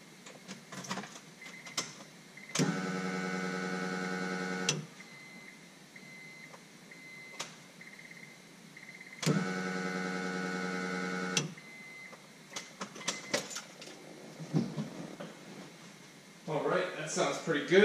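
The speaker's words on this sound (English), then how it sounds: "That pump sounds very healthy." A Walbro electric fuel pump runs in a turbocharged Honda Accord, a steady buzzing whine with harmonics that comes on twice for about two seconds each, with quiet pauses and faint handling noises between the runs.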